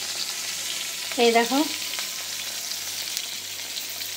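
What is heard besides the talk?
potatoes frying in oil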